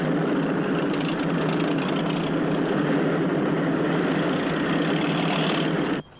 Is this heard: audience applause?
no